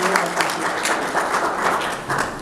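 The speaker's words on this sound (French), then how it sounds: "Encore une fois, des applaudissements pour le candidat président de la République" An audience of the Congolese community in Champaign, Illinois applauds presidential candidate Martin Fayulu, sustained dense clapping at a steady level with sharper individual claps standing out near the front.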